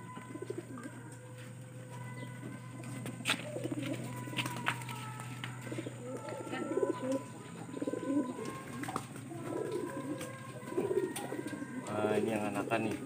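Domestic pigeons coo repeatedly in a low, soft, continuous murmur, with several birds overlapping close by and occasional clicks and rustles from the enclosure.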